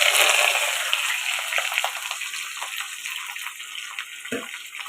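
Onions dropped into hot oil burst into a loud hissing sizzle that gradually settles to a steadier frying hiss, with a couple of soft knocks, heard up close without talk.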